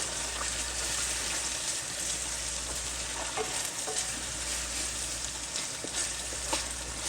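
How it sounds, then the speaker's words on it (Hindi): Onions browning in oil in a pan for pickle chicken macaroni, a continuous loud sizzle and crackle with occasional stirring scrapes, close up and without speech. "इसको अब हम लाइट ब्राउन कर लेते हैं। ये देखो ब्राउन करने हैं प्याज।"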